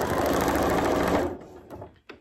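A sewing machine runs in a steady, fast whir for just over a second while stitching fabric onto a foundation paper piecing pattern for mini flying geese blocks, then stops, followed by faint handling sounds.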